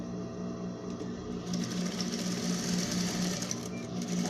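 Sewing machine running steadily as it stitches a pocket closed, a close, quiet, continuous whirring hum that continues without a break.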